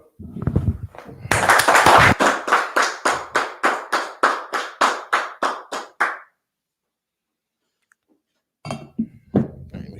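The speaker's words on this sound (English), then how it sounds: "Clap it up" Group clapping in rhythm, a loud run of about fifteen sharp, evenly spaced claps that slow slightly and stop abruptly, followed by silence and then a few people talking.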